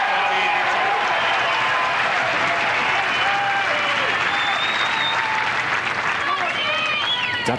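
A Dutch tennis crowd at the 1997 Courier–Schalken match applauds loudly and steadily for the whole stretch, a dense wash of clapping with a few whistles and cheers rising through it.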